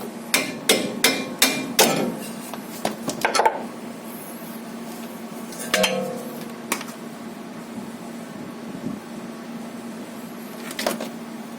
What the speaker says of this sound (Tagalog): pupukin natin ulit